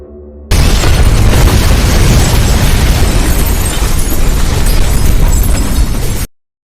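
A nuclear explosion in a film, one massive sustained roaring blast that bursts in suddenly at full loudness, rumbles heavily for several seconds and then cuts off abruptly.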